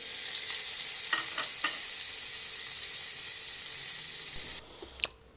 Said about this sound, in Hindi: चिकन को थोड़ा सा भून के